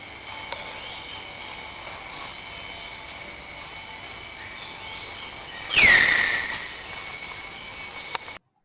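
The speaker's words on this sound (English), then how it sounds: "that's the sound of the tapir" A recorded Malayan tapir call played back through a computer: one short, sharp, high whistling squeal with a falling pitch, heard once midway over a steady background hiss.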